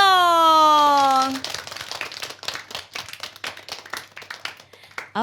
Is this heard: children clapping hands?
yes